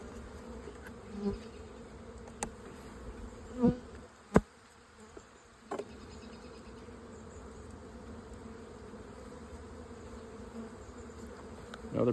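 Honey bees hum steadily around the brood frames of an open hive, a soft, continuous buzz broken by a few brief knocks and clicks from the frames being handled.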